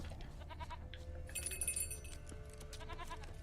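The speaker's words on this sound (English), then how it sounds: "The goat is like 2 meters long. Absolute behemoth of a goat." A goat in The Witcher 3 gives a few short bleats, fairly faint, over low game ambience and a brief chiming effect.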